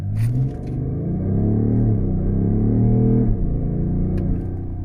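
A BMW X5 M50d with its quad-turbo diesel engine pulls at full acceleration, a loud steady rumble rising in pitch through a gear, dropping briefly at a shift near the end, heard from inside the car without talk.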